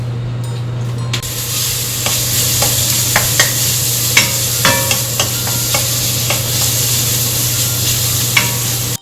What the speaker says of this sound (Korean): 마늘 기름을 먼저 내야 되니까